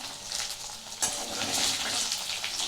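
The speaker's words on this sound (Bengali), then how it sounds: "এই ব্যাচটা ভাজা হয়ে যাক" A batch of chicken pakoras deep fries in hot oil, a continuous loud bubbling sizzle with a brief clunk partway through, no talk.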